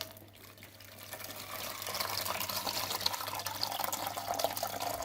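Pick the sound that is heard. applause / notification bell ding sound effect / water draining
water draining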